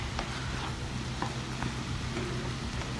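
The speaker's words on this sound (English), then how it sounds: "it's basically like you're frying veggies without needing to fry them" Food sizzling steadily in a hot pan, a constant crackling hiss with a few sharper pops and scrapes of stirring.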